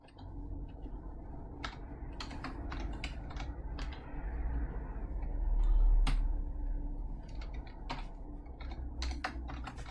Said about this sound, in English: I'm going to type this up.